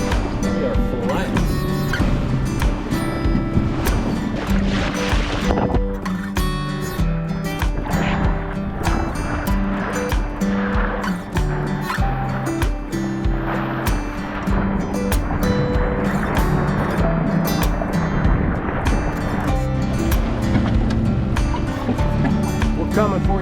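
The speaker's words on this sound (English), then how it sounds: "Wind picked up quite a bit." Wind while sailing on Priest Lake, a loud, continuous rushing bluster with water splashing against the hull under it and voices heard throughout.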